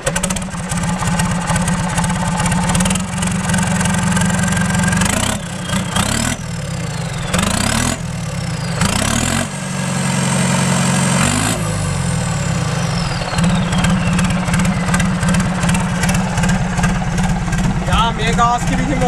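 An IHC 745XL tractor engine runs with no exhaust fitted, a loud, raw rhythmic idle with brief dropouts and pitch changes, close by.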